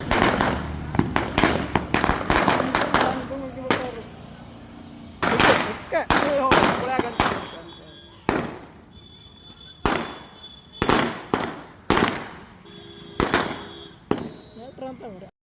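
Firecrackers burst repeatedly, loud sharp bangs in rapid clusters at first, then spaced out with pauses, with some voices between.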